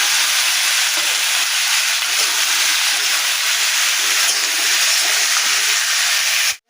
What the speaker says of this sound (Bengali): আলুগুলো ভাজা হবে।